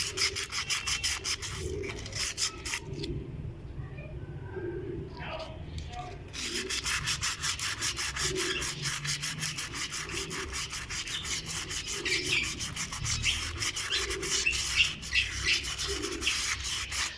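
Rhythmic rubbing and scrubbing on a Yamaha YB100 motorcycle brake part as it is cleaned, repeated back-and-forth strokes close to the microphone with a brief pause near the start.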